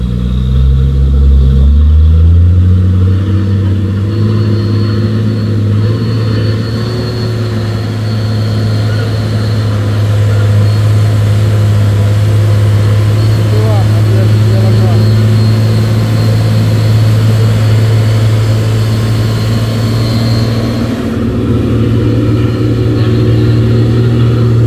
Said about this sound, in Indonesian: Wah, truk balak ini jarang lewat